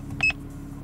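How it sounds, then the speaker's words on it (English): A single short electronic double beep from an automotive diagnostic scan tool, quiet and close, over a low background hum. "The service tool on this, in fact, it's got a bit of a beep going on there."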